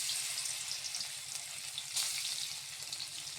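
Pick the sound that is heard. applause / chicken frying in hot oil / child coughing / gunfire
chicken frying in hot oil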